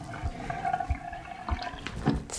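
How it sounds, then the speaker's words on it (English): Water from a tap runs into a freshly unclogged sink drain, a steady close trickle and gurgle with occasional drips and soft thumps. "Now you can turn the water on and make sure this works well."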